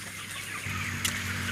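Chickens clucking inside a two-storey poultry farm built above a fish farm, a steady low flock murmur with one brief sharper call standing out, heard fairly close without talk.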